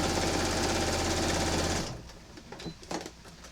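A sewing machine runs fast and steady, stitching binding closed on a quilt, then stops, leaving a few light handling clicks and rustles.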